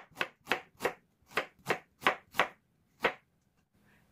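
A knife cuts fresh ginger into slices on a cutting board, eight crisp, evenly spaced chops close up, followed by a pause and a soft faint clatter.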